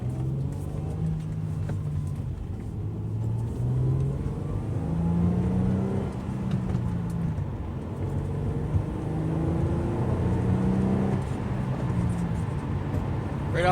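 An Acura CL/TL Type-S fitted with a Comptech Icebox cold-air intake accelerates, its engine note rising and falling in steady sweeps with a continuous rumbling drone, fairly close and without talk.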